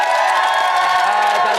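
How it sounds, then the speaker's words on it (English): A studio audience at a Celebrity Big Brother UK spin-off show cheers, whoops and applauds for the winners, a dense continuous roar of voices and claps lasting a moment. "Give him a round of applause."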